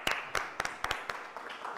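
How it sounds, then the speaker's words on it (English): A small audience claps in quick, scattered bursts indoors, the applause fairly faint and brief with sharp individual claps standing out. "I want to give everyone here a big set of applause for making it out despite the rain"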